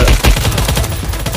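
Rapid gunfire from a Vietnam War video game, loud and close, with a quick burst of repeated shots filling the short moment and no talking.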